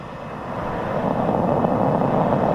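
A SpaceX rocket's engines ignite at launch with a deep, broad roar that swells quickly and holds strong and steady, distant yet powerful.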